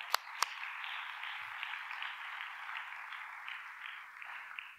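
A church congregation bursts into applause, a sustained wash of many hands clapping at moderate distance, opened by a couple of sharp nearby claps and fading slightly at the end.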